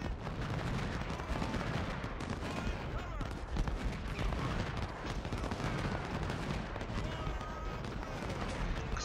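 Cannon and artillery fire from Union batteries in the Ultimate General: Civil War strategy game at Crampton's Gap, a dense continuous barrage of booming shots and gunfire rattling throughout, with a voice talking over the battle.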